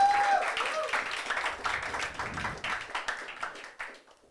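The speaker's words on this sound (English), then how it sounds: "Give her a huge round of applause." A comedy show audience applauds a volunteer joining the stage, a scattered round of clapping that rises and falls and thins out over a few seconds.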